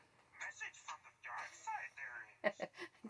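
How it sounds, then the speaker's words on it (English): An old phone gives a brief notification chime indoors, sounding near the end of the clip in a quick pair of bright tones while a person talks throughout. "That's my notifications on my old phone. I forgot to turn that off."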